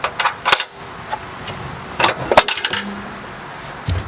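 A scissor jack on a car is unscrewed from its lock, giving several sharp metallic clinks and rattles in short clusters with quiet gaps between them, close by.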